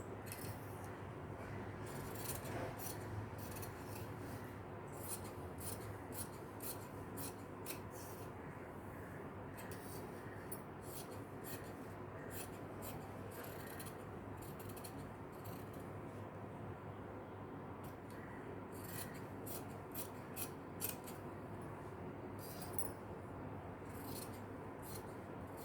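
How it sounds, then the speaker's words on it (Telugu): Scissors snip through blouse fabric along an extra margin beyond the chalk markings during tailoring, a steady run of crisp, close cuts that repeat for most of the stretch with no talk. "ఇప్పుడు కట్ చేస్తున్నాను."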